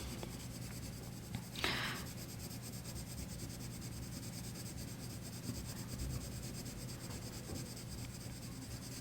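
Colour pencil in burnt ochre dragged across watercolour paper, giving faint, soft scratchy strokes with one brief louder scrape early on over a quiet room hum.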